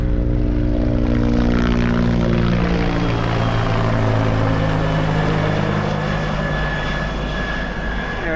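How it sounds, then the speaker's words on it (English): A loud, steady aircraft engine drone with low rumbling rotor-like tones, sustained throughout and slowly shifting as it passes nearby. "The helicopter's coming."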